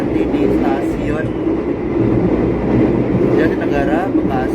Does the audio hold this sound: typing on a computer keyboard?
no